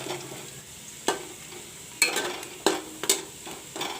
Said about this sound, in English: Till the onion turns brown, I will stir this.